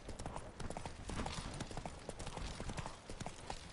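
In The Witcher 3, horse hooves clip-clop in a quick galloping rhythm, faint and continuous for a few seconds.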